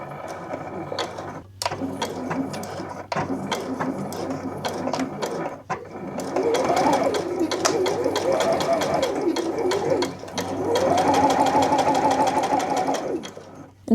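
A Juki sewing machine stitching jeans runs in bursts, a rapid mechanical whir with rhythmic needle clatter that starts and stops several times, with longer steady runs later on and faint rustling between.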